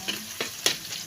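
Onion and garlic sautéing in a pan for Filipino menudo, a steady close sizzle broken by a few quick stirring scrapes.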